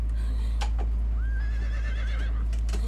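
A horse in an outlaw-themed video game neighs with a clear, rising whinny lasting over a second, set over steady low game ambience and a few faint hoof clops.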